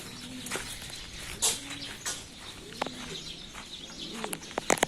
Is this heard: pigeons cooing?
yes